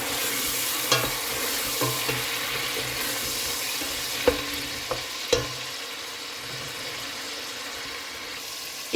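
Masala with red chili frying in a pot for daal mash, a steady close sizzle with occasional clinks and scrapes of a spoon as it is stirred.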